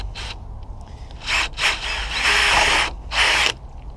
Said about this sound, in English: let's drill that out anyway